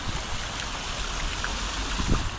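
Lancaster Falls pours in a steady, unbroken rush of water, a dense close roar with no pauses and no voices.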